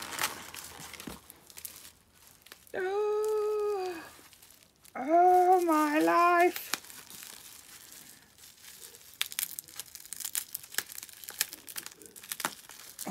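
Gift wrapping paper is unwrapped from a birthday present: bursts of crinkling and tearing paper, close and fairly loud, follow a woman's excited exclamations.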